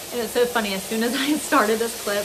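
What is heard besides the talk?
steak sizzling while frying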